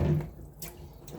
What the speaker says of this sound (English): Give it a quick wash so nothing sticks to it. I'm just using the hot water from the sink.